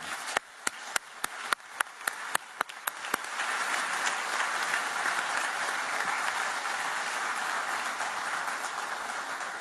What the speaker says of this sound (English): Now I would like to ask you to give a strong round of applause to this excellent panel.